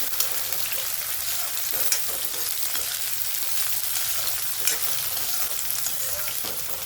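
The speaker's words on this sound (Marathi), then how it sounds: "आता आपण भोपळा टाकून घेऊ भोपळ्याला पण परतून घेऊ" Pumpkin and mixed vegetables sauté in a hot pan for a Marathi mix-vegetable dish, giving a steady, close sizzle with faint stirring scrapes scattered throughout.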